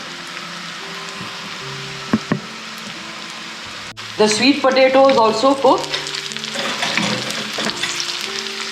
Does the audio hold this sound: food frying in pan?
yes